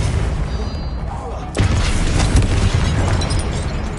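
A Confringo blast spell bursts in Hogwarts Legacy, with a sharp boom followed by a dense, rumbling roar that lingers over continuous game noise.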